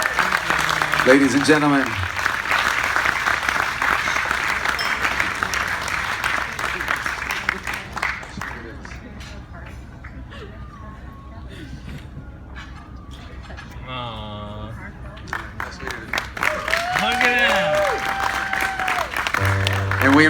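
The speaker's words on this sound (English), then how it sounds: "A nice round of applause," Wedding reception guests applaud after a matron of honor's toast, clapping loudly at first and then fading. Later a voice speaks over the room as crowd noise swells again.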